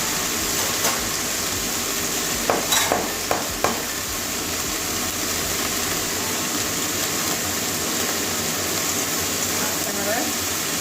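Mustard greens being stir-fried in a pan for a Bengali recipe give a steady broad sizzle with a few sharp clinks of a spatula against the pan early on, continuous and fairly close throughout.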